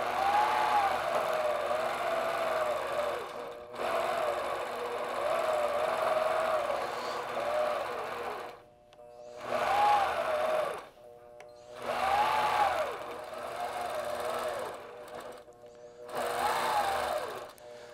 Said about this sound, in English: I need to stitch in this ditch, so I'm just gonna do that now